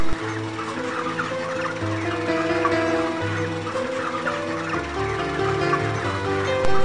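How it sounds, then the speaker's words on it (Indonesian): Six hens cluck loudly and continuously at close range while they are weighed, with overlapping calls and steady barnyard commotion throughout. "Untuk penimbangan kali ini berjumlah 6 ekor ayam betina."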